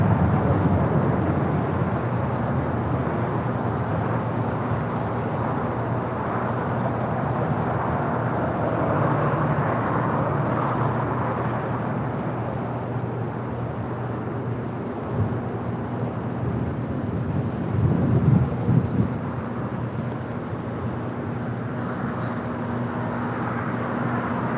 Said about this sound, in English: This is Alaska Airlines 1352 departing to San Jose, Costa Rica on a 737-800 in the Hot Kawani livery